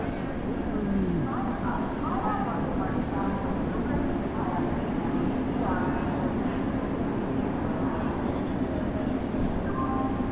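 A Howrah–Mumbai Duronto Express 12262 train sits at a station platform beside an AC3 coach, giving a low steady rumble and hum under a busy crowd murmur throughout.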